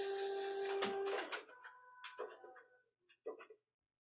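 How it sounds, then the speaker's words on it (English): A noisy printer runs loudly with a steady whine and mechanical clatter, then winds down into scattered clicks and whirs before falling silent. "Got a noisy printer there."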